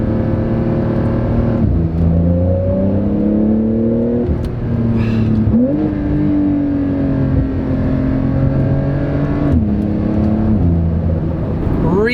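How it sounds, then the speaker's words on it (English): Porsche 911 992, 2020, exhaust roaring as the car accelerates in second gear, the loud engine note climbing in pitch with gear changes and shifts across the run, heard close from the cabin with almost no talk. "Seriously, I can't stop smiling with an exhaust like this."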